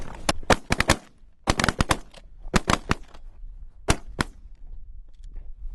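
Several shotguns fire in rapid bursts of sharp, loud blasts during a duck and goose hunt in Canada, with short quiet gaps between volleys.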